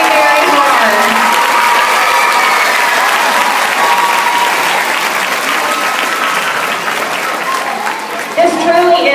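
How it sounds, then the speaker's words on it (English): A gala audience applauds school staff members, producing loud, sustained clapping with some crowd noise that holds steady for most of the stretch and dips briefly near the end. "Let's give these staff members a round of applause."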